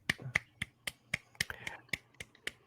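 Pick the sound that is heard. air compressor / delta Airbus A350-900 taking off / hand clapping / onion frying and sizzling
hand clapping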